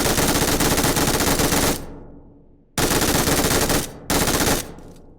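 Automatic gunfire in a first-person video game shooter, with loud sustained bursts of rapid shots, a short break, then two more close bursts.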